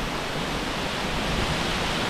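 Waterfall at the Hérisson cascades, a steady, dense rush of falling water that holds an even roar from start to finish with no voices.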